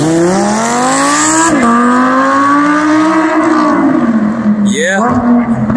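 An Arrma Limitless RC car races a Lamborghini Huracan off the line: a loud, continuous high-pitched engine whine rising and falling in pitch, with a sharp shift near the middle and a quick squealing sweep near the end.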